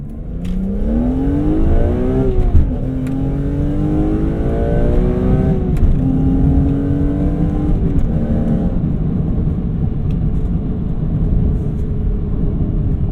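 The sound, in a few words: BMW M3 engine revving and downshifting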